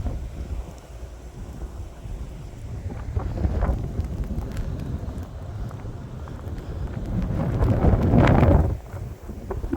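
Strong wind from a major winter storm buffets the microphone with a low roaring rumble, swelling into a heavy gust near the end before easing off, in Valparaiso, Indiana.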